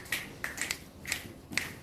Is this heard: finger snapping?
yes